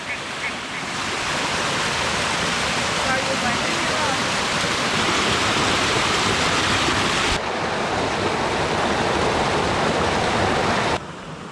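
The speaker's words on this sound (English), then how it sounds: "Like our little mini waterfall." A small waterfall on a forest stream makes a steady, loud, broadband rush of falling water that holds constant for the whole stretch, close by and without voices.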